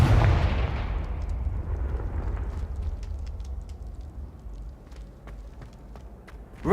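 A Confringo blast spell exploding in the Hogwarts Legacy video game, a loud booming burst with a rumbling low tail that slowly decays, followed by faint clicks and scattered game effects.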